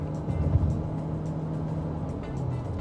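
Steady low engine-compartment drone and road rumble heard from inside a 2022 Toyota Corolla Cross Hybrid SUV while driving, a constant moderate hum with no talk.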